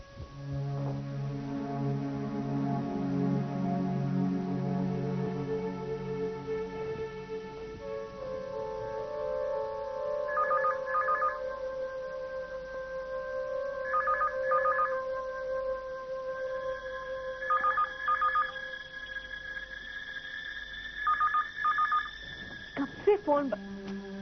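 A telephone rings in short repeated bursts over a sustained droning musical score, with no voices.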